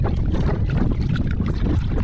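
Strong wind buffets a small fishing boat at sea, roaring steadily and close throughout while waves slosh against the hull under the gusts.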